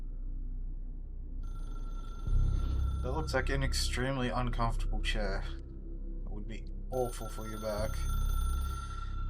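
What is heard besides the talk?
telephone ringing in a video game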